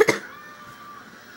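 One short, sharp cough right up close, followed by a quiet fading tail.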